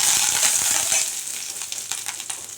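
Dried red chillies and curry leaves fry in hot oil in a pan for a peanut thuvaiyal, giving a steady, close, bright sizzle with scattered crackles and pops that ease slightly toward the end.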